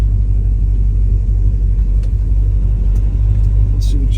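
The 1970 Chevrolet Chevelle engine runs at a steady idle, a loud, continuous low rumble close by with faint clicks on top and no talking.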